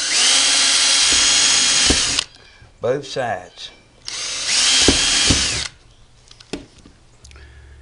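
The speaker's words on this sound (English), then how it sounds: "now you want to drill a hole in the center of every one of these." A power drill bores holes in parts for a homemade indoor TV antenna, with two loud, sustained bursts of whirring separated by clicks and handling noise. A voice briefly speaks between the bursts.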